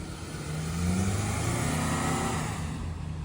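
A Ford 4x4 stuck in sand revs hard as it tries to back out, its engine roaring loudly and steadily, rising in pitch and holding near and strong.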